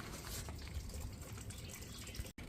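Coolant drains from a Mercedes GL radiator during a radiator replacement, giving a steady close-up gushing, trickling wash of liquid that runs continuously before stopping abruptly near the end.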